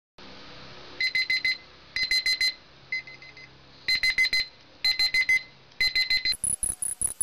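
Alarm clock ringing in repeated bursts of shrill electronic beeps, loud and close, with short pauses between groups and a higher-pitched tone at the end.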